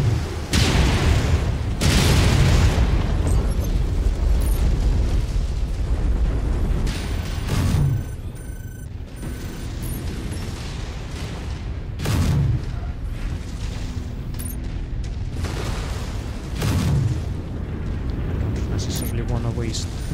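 Missile strikes boom again and again in the mech video game Hero Mechs, loud heavy blasts recurring every few seconds over continuous battle rumble, while someone talks over the action.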